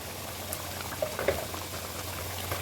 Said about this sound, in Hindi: ये देखिए इस टाइम पे जैसे ये चिकन पक रहा है, इसकी ग्रेवी तैयार हो रही है।